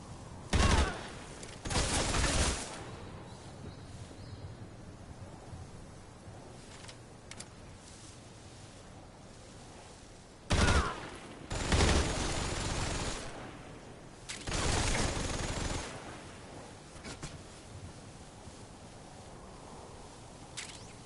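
Gunfire in the game Metal Gear Solid Delta: Snake Eater, loud bursts of shots separated by quiet stretches, each volley sharp and close.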